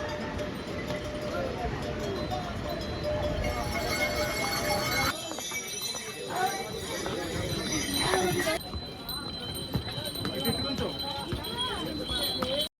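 Horse hooves clip-clop steadily along the Kedarnath pilgrimage trail between Gauri Kund and Kedarnath, a continuous rhythmic plodding with bells jingling amid outdoor crowd noise and voices talking nearby.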